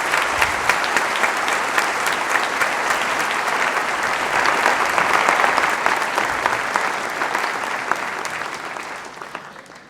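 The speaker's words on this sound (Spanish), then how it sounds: "quisiera pedir un aplauso para estos dos grandes visionarios que nos acompañan acá" A large crowd at the inauguration of the Bogotá book fair applauds warmly, a thick sustained roar of clapping that builds, holds, then slowly fades away.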